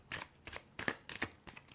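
Tarot-style cards shuffled by hand for a card reading, five soft papery riffling bursts in an irregular rhythm, close and quiet with no talking.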